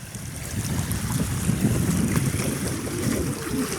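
Waves wash steadily against a stone-lined village shore. A continuous low surge rolls on with wind rushing across the microphone, and no voices are heard.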